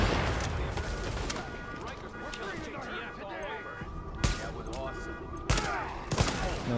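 Gunfire in the video game Tom Clancy's The Division: a running fusillade of sharp shots, then a few louder, isolated cracks near the end, with a voice talking throughout.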